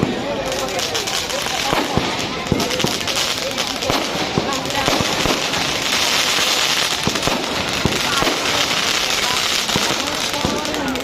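Firecrackers set off at a celebration, a rapid irregular string of sharp cracks and pops at close range over several seconds, with a steady crackle between the bursts and faint voices in the background.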